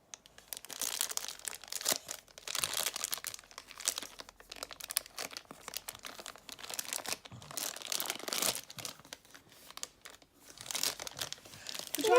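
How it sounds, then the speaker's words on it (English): A wrapped Christmas present being unwrapped, with continuous crinkling and tearing of paper at close range, rising and falling in bursts for several seconds in a quiet room. "You unwrap it?"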